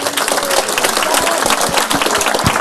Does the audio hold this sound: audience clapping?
yes